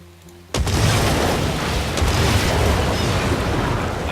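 Demolition of a house in SimCity hits with a sudden booming crash, then a sustained loud rumbling roar of collapsing rubble that carries on steadily.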